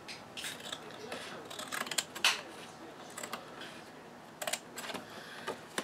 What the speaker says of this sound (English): I'm just going to go ahead and give it a little trim.